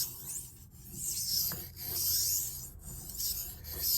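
Knife blade being stroked lightly along a whetstone to polish the bevel, with a steady soft rasping scrape that repeats in even passes and has no talk over it.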